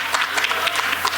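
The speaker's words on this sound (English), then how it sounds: "Yes, clap for that." Scattered clapping from a crowd at a book launch, a burst of applause with irregular hand claps spread across the moment.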